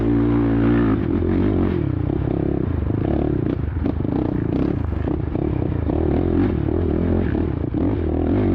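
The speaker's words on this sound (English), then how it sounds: "You can hear me revving it up." A Suzuki LTR 450 ATV engine revs repeatedly on a muddy hare scramble course at Pleasant Creek Raceway, close and loud, with rising and falling throttle blips and clattering chassis and terrain noise.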